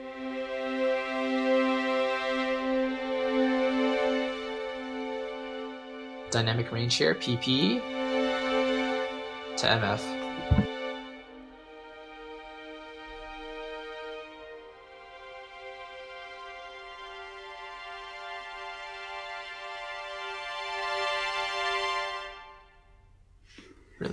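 High strings from the Orchestral Tools Time Macro library hold a thin, airy sul tasto sustain, bowed near the fingerboard. The chord swells gently from soft to moderate while someone talks briefly over the middle.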